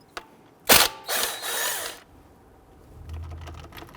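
Ratchet working a 13mm brake caliper bolt on a Dodge Charger, a sharp click and a quick clattering burst followed by a softer ratcheting whir, then quiet handling noise.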